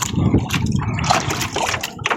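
Rough sea water sloshing and splashing against the hull of a small fishing boat, a continuous, close, choppy wash with no talking.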